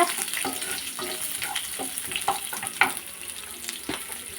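Chopped onion sautéing in a pan for a chutney, a steady crackling sizzle with occasional stirring scrapes, close and moderately loud with no talking.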